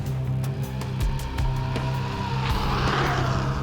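An HPI RS4 MT radio-controlled car drives and drifts nearby. Its electric motor gives off a steady, high whine that rises and falls in pitch as it accelerates and slides, with faint tire scuffs. No one speaks.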